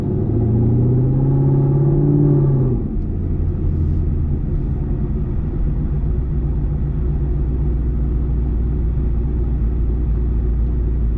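A Chevrolet Camaro running on E85 fuel pulls away with a deep engine rumble, heard from inside the cabin as a steady low drone, louder at first and then settling as the car cruises.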